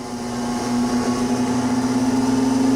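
Okamoto rotary surface grinder motor, made in Japan, humming steadily with a strong tonal whine that shifts slightly in speed, heard alone and close.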